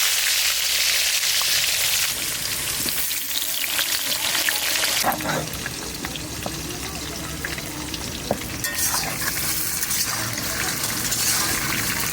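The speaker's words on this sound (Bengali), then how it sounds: "মাংসর আলুটা ভেজে নেওয়া হবে" Potatoes for a mutton curry fry in hot oil, giving a steady, loud sizzle with occasional stirring scrapes and a faint trickle of liquid partway through.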